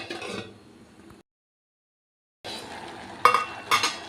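Flat beans stirred in a pan with a utensil, soft scraping and sizzling, then after a silent gap a lid is set on with two sharp metallic clinks.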